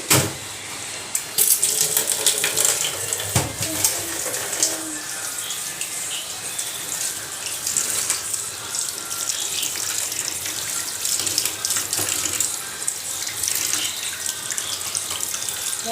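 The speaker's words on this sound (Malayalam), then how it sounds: "ഇനി ഇത് നമുക്ക് പോയി കഴുകിയിട്ട് വരാം." Tap water runs steadily into a sink as raw chicken is washed, a continuous close splashing rush with small clatters and shifts in the flow, and no voices.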